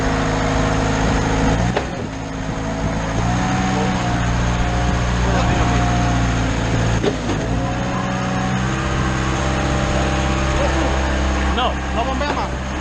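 A Schwing BPA450 concrete pump's engine drones steadily at raised RPM on a jobsite, loud and continuous with strong harmonic hum, while people talk over it.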